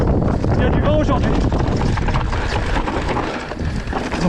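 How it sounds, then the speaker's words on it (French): Heavy wind buffets the microphone during a mountain bike enduro race stage, a loud, constant roar of rumbling gusts that fills the whole stretch with no pause. "il y a du vent aujourd'hui."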